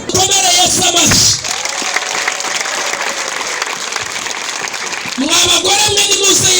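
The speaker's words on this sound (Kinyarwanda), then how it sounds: "Komera Yesu amashyi." Loud crowd applause at an outdoor church gathering, sustained clapping from many hands with voices shouting over it, fading briefly then surging again near the end.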